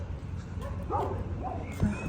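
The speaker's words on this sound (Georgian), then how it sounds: "აი რამდენი ძაღლია იხედავთ." Dogs in a city park give a few short yips and barks, faint and somewhat distant, scattered over a low outdoor background.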